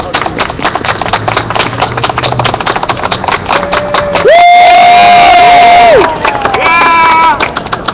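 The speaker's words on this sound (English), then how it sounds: "would anyone like to join me in a unity clap?" A crowd at an outdoor general assembly claps in rapid, rhythmic unison, building to loud cheering and shouting near the middle, with voices calling out over the clapping.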